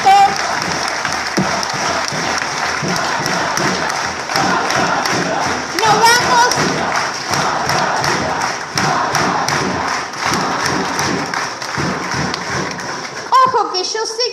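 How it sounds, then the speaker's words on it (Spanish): Dense, sustained applause from an audience at a socialist political rally in Argentina, loud and steady throughout with a brief voice near the end. "que aplauden porque Margarita está diciendo lo que ustedes piensan"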